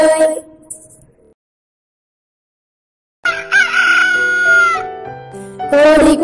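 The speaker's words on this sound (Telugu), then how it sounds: "కోడి కూతతో నిద్దురలేస్తాం" A rooster crows once in a Telugu children's rhyme recording. The crow is loud, drawn-out and close, and comes after a silent pause, with music ending just before it and picking up again right after.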